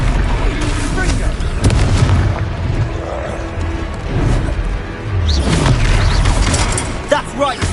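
Confringo blasting spells explode during a Hogwarts Legacy fight, heavy booming blasts thudding repeatedly amid battle clamor, with a voice shouting between the hits.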